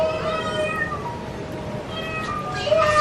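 Hungry homeless mother cat and kittens meowing repeatedly and insistently, several overlapping cries close by, with a steady background hum beneath them.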